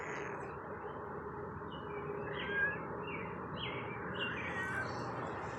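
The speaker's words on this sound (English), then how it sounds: "Smokey, look, I got a bird." A pet bird raised from an egg gives a few soft, high chirps and calls over a quiet indoor hush, faint and intermittent with brief gaps between them.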